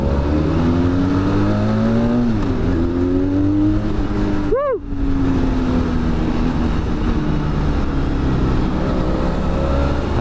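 A steady, deep engine rumble from a Benelli 502C motorcycle runs throughout, close and loud, with a brief whoosh of something passing midway.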